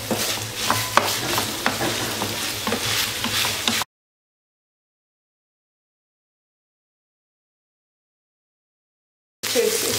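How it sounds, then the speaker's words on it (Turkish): Onions sautéing in hot oil in a pan, with chopped green peppers nearby, give a steady crackling sizzle with stirring for a few seconds, then the sound cuts out to silence before briefly returning at the end. "Soğanı içerisine pişirene kadar kavuruyorum."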